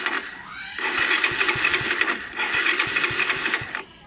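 A Suzuki Raider 150 motorcycle fitted with a Keihin 28mm carburetor starts up and runs with a loud, buzzy rattling note, cuts out briefly, then catches again and keeps running close by.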